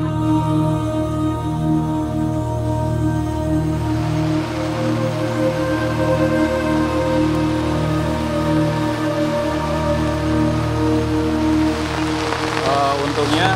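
Rain falls on a campsite on Gunung Andong, a mountain, making a continuous dense patter that stays steady and even for the whole stretch, with no voices.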